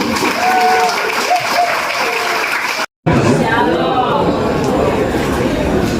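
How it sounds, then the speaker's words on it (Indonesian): Audience applause at the opening ceremony of a skills competency test, dense clapping with crowd murmur and some talk mixed in, cut by a brief dropout midway before resuming. "Tepuk tangan untuk semua."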